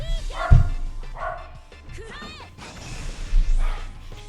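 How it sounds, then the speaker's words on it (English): A dog barks and yelps in the background in a few short bursts, loud and near at the start and again near the end, while game sounds and music play over the top. "sorry if you can hear my dog screaming in the background."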